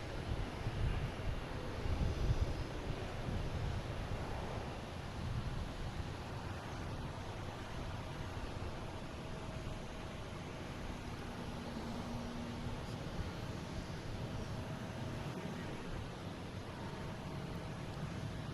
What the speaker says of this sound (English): And American Airlines taking off,